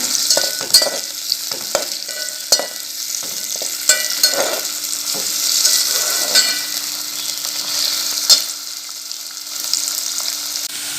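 Onions sizzle and crackle in a hot pan as they brown, a constant frying hiss broken by scattered clicks and scrapes of stirring.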